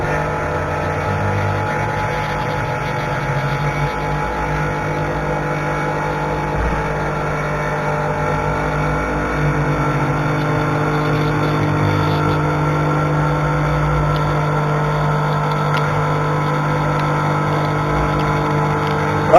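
Machine cutting 1/4 inch thick 7075 P651 aluminum plate stock, a loud steady whirring drone with a slight rising pitch, running continuously throughout.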